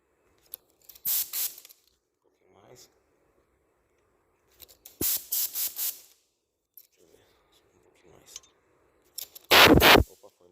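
A spray gun lays a second coat of pearl white tricoat automotive paint, firing several short hissing bursts in three groups, the last one loudest, with quiet pauses in between.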